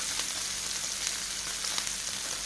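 Mackerel masala fish fry with curry leaves sizzles steadily in a pan, a continuous close, dense crackling hiss with no talking.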